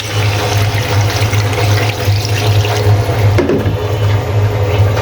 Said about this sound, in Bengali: সিদ্ধ হওয়ার জন্য জলের জন্য পানি দিয়ে দিয়েছি